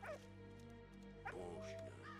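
A dog in a World War I video game set at Douaumont, France, in 1916 gives soft yips and whimpering woofs over a low ambient drone, a few short calls spread across a couple of seconds.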